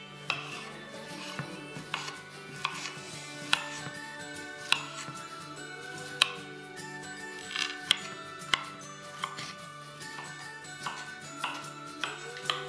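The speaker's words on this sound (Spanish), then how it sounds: "Empezamos picando los 200 gramos de fresas en trocitos pequeños." A knife chops 200 grams of fresh strawberries into small pieces on a board, with irregular sharp taps and knocks spaced through the clip over faint kitchen background, fairly quiet overall.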